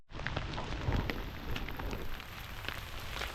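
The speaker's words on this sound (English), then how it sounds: "I'll put a clip, if I haven't already, of the rain we got last night." Steady rain falls at night outdoors, a dense, even hiss of drops on surfaces with occasional louder patters, continuous and moderately close with no voices.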